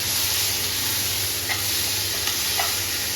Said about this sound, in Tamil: இதனையும் நல்லா வதக்கி விடுங்க